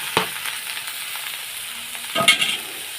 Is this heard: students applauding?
no